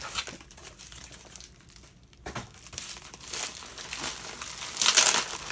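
Post office packaging material is handled and crumpled up close, with bursts of crisp crinkling and rustling that swell and fade, quieter for a moment, then build to louder crackling toward the end.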